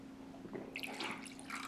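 Water poured into a Pyrex measuring glass holding peanut butter and stirred, giving soft close drips and wet squishy swirling sounds that grow busier through the short stretch, with no talking.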